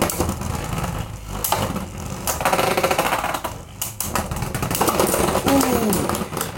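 Breaker Xcalius Beyblade tops spinning and clashing in a stadium battle against a left-spin Spryzen, a steady buzzing rattle broken by quick clicking impacts, with a voice talking partly over it.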